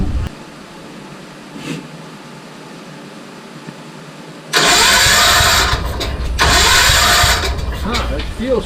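Starter on a Bobcat skid steer cranks the engine, a loud, sustained grinding churn that kicks in after several seconds of quiet, with brief pauses in the cranking and a voice talking nearby.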